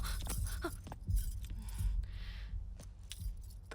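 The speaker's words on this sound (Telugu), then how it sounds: "ఏ బండి తాళాలు తీసుకురా" Motorbike keys jangle in several quick metallic bursts up close, scattered across a few seconds against a faint room background.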